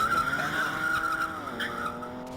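A turbocharged Porsche 928 skidding in the Chase HQ video game, a loud sustained tyre squeal with a whining engine tone, close and continuous over a couple of seconds.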